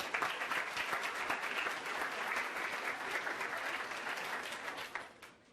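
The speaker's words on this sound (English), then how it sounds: "Let's have a round of applause for our boys and girls cross country" Applause for the boys and girls cross country teams at a high school fall sports banquet: a hall full of people clapping steadily and loudly, then thinning out near the end.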